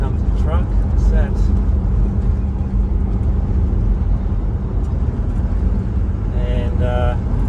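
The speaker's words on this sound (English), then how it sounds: "Here comes the truck." A truck approaches on a road, a loud, steady engine rumble filling the whole stretch, with faint chirps and other small sounds over it.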